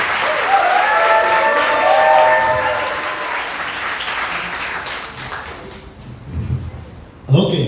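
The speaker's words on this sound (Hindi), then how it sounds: "एक बार जोर से ताली बजाने के लिए" An audience at a Hindi Bible teaching session bursts into loud clapping mixed with shouts and cheers. The noise gradually dies down before a few voices and a final sharp sound break through.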